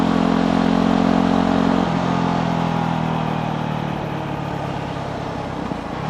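A Honda CRF motorcycle set up in supermoto trim, ridden on a country road, with a loud steady engine drone close to the microphone that eases slightly partway through.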